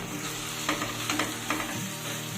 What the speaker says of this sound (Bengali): দু মিনিট পর আমি ঢাকাটা খুলছি আবারও একটু নেড়ে দেব